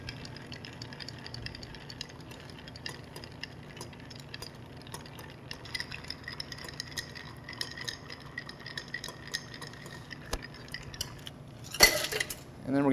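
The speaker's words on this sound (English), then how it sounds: "So we're gonna give this a good stir until it's well chilled." A bar spoon stirs a Hanky Panky cocktail over ice in a mixing glass, producing soft, continuous ticking and clinking at low level, with a louder clatter near the end.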